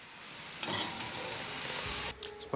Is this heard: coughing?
no